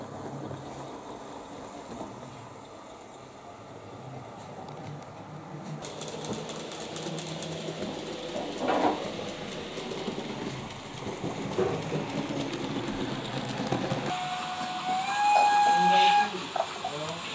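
A small model train at a model railway exhibition rumbles and clatters steadily along its track for the whole stretch, with a brief high whistle-like tone near the end.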